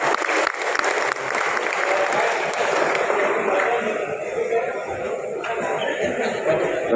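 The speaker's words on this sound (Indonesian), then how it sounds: "Tepuk tangan untuk beliau." Sustained audience applause at a Pemuda Pancasila anniversary celebration, a dense, loud wash of clapping from a large crowd lasting the whole stretch, with some voices mixed in.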